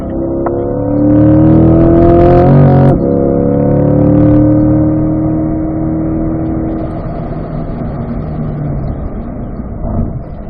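A race car on a track's north circuit accelerates hard with a loud, close engine whine climbing in pitch, breaks off for an upshift into fourth gear, then pulls on as the roar eases and fades.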